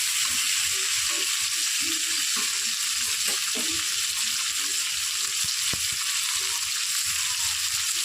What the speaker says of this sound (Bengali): সুন্দর করে নাড়ানাড়িটা করে নিচ্ছি।